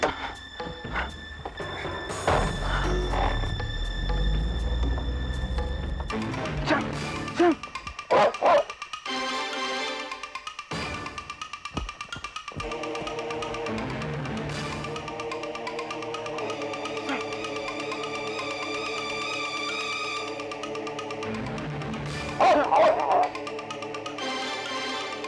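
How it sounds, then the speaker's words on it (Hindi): A dog barks and yips in sharp bursts amid a busy dramatic scene, with stretches of loud background music and sound effects between and around the barks. "ये कुत्ता इतना गोल गोल क्यों घूम रहा है?"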